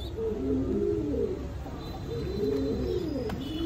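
Red Lahori fancy pigeons coo in steady low, rolling phrases, close and continuous, with no talking over them.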